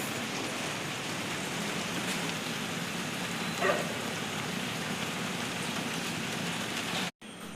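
Steady rain falls continuously as a dense, even hiss, close by, with one brief clatter midway and a momentary dropout near the end.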